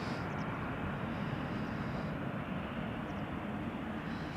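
A year-old Airbus A321neo departs Amsterdam Schiphol, its engines making a faint, steady distant rumble and rush throughout.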